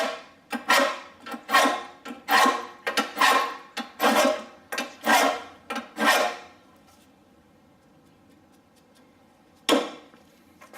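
A lawn mower blade is sharpened with about ten loud, rhythmic rasping strokes close by, then a pause and one final stroke, with no talking.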